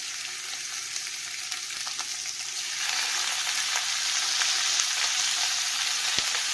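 About 300 grams of chicken hits a pan of browned onions and fries with a loud, steady sizzle that swells partway through, with occasional light stirring knocks.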